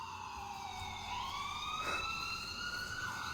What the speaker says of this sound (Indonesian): Gua dengar suara ambulan, Mang.